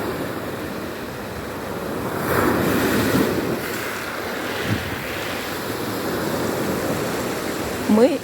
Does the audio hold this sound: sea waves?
yes